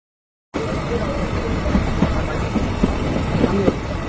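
Steady rumbling of a passenger train in Bangladesh, heading to Chattogram, runs throughout after a brief silent start, with faint clanks and squeals over a constant low roar and no voices.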